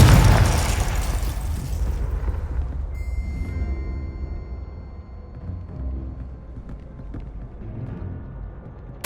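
A Confringo spell explosion in the video game Hogwarts Legacy opens with a loud booming burst, then a rumbling decay settles into a lower, steady roar over several seconds, with a sharp pop at the very end.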